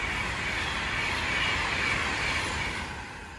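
A Pendolino train runs through Lichfield Trent Valley station, giving a steady, loud broadband rush and rumble that holds level for several seconds, then eases slightly as it moves on.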